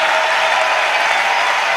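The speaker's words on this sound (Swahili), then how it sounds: "Tunaweza kumchapia tena Bwana makofi" A church congregation claps for the Lord in steady, dense applause, a continuous wash of many hands at close range with no pauses and no voices on top.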